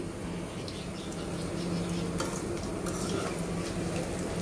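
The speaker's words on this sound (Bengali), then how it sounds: "দেখো ফ্রাইটা কিভাবে ভাজি" Battered chicken frying in hot oil, giving a constant close crackling sizzle with a few sharper pops and clinks of a utensil against the pan, and no one talking.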